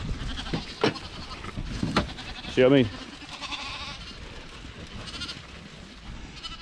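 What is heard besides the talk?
hungry sheep bleating around the farmer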